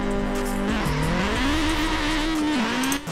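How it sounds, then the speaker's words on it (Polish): A car engine in a Forza Horizon 4 drag race revs loudly and continuously, its pitch climbing, dipping and climbing again through gear changes, with a brief tire squeal; no talking. "Chyba wybrałem najgorzej brzmiący samochód ze wszystkich, jakie mam."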